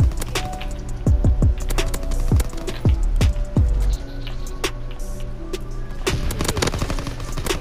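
Call of Duty: WWII gunfire: loud, sharp single shots and short bursts hit close in quick succession, then a denser cluster of cracks toward the end.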